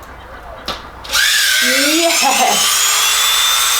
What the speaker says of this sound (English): I just found a very old Dremel that I hope still works.